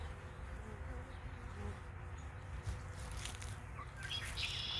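Honey bees buzz softly around a backyard beehive in a steady, faint hum, with a few brief chirps and sharper sounds near the end.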